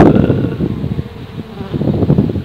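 Honeybees buzzing steadily around a hive as a beeswax frame holding eggs and larvae is shaken into it, a dense low droning hum throughout.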